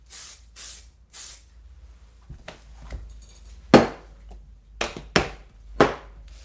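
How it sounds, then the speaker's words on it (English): Fixative spray from an aerosol can hisses over a pencil car sketch in a series of short bursts, several quick puffs followed by longer sprays, close and clear in a quiet room. "so again, spray fix."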